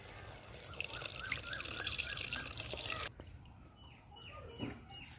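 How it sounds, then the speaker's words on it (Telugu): Tamarind juice is poured into a simmering prawn and raw mango curry, a steady splashing trickle for about three seconds that gives way to softer scattered drips and faint clatter. "కలిపి పెట్టుకున్న చింతపండు పులుసు అయితే ఇందులో పోసుకుంటుందా."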